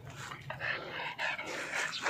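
A dog yips and whimpers faintly at a distance in a rain-soaked home setting, a few soft bark-like cries over a steady background hiss.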